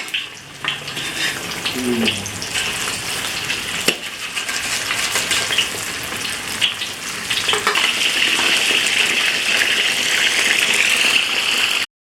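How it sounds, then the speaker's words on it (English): Steady sizzling and crackling of food frying in a wok fills the clip, with occasional clinks and scraping, growing slightly louder toward the end. "I'm frying them in here in this wok, which I love."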